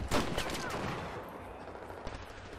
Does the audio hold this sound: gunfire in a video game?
yes